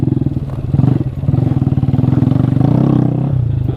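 A four-wheeler ATV engine chugs and revs continuously while off-roading, loud and close, with a rapid pulsing exhaust beat that swells and eases over rough terrain.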